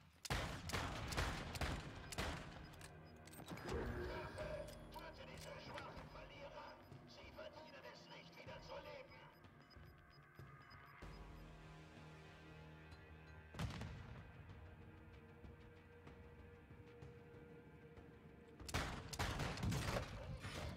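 Revolver fired in a video game, sharp gunshots in quick clusters at the start and end of a longer stretch of distant, lighter gunfire, with a voice talking over parts of it.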